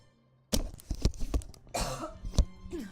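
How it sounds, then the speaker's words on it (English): A few harsh coughs close to the microphone, coming in two quick bursts after a moment of near silence. "I needed to have a cough"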